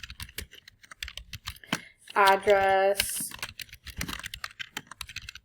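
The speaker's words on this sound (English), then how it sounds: "just typing this in as we go" Quick, uneven clicks of a computer keyboard come from typing into a spreadsheet, mixed with a person talking and a short burst of another sound partway through.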